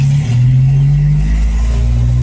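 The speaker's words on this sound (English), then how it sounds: "We still have exhaust leaks." Jeep engine with an exhaust leak idling and revving at night in Florida rain, a steady loud low rumble with a droning hum throughout, no speech.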